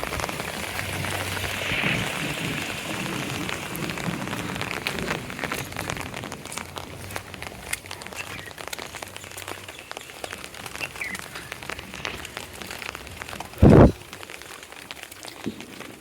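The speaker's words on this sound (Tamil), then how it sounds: "2-3 நாளாக இது மாதிரி தான் மழை விட்டு பெய்யுது காய்ஸ்." Heavy rain pouring down in a village, a steady dense hiss of drops on surfaces lasting throughout, with one brief louder knock near the end.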